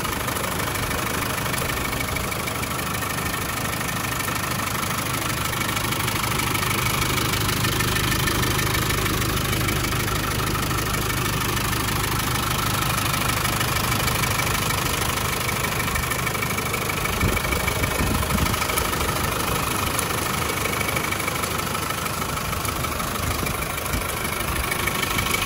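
A warm Land Rover Defender RWMIK Plus with a 2.8 300 TDI diesel engine idles steadily for the whole stretch, a continuous low rumble with a slightly rough, knocking texture and no voices.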